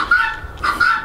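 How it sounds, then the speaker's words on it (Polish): A rooster on a farm with beehives, chased outdoors on a winter day, gives two short, fairly close calls, the second after a brief pause, with no talking. "Gonimy koguta."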